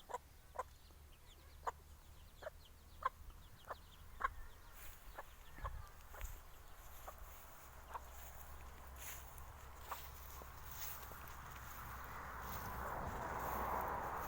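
Quiet, soft clucks repeat at a steady pace from nearby village hens with small chicks, growing busier and mixing with faint rustling toward the end.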